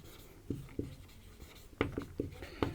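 Handwriting during a Class 12 physics lesson on electric charge, with a handful of short scratchy pen or chalk strokes spaced irregularly, faint and close, over a quiet room.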